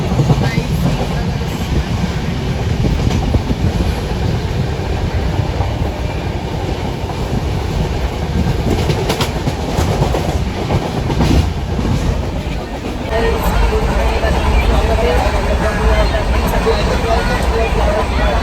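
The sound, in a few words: train running on rails, clickety-clack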